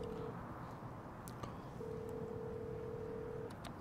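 Telephone dial tones from a phone in the Devil May Cry 5 video game, steady beeps running under a dense, continuous game soundscape with a few sharp clicks.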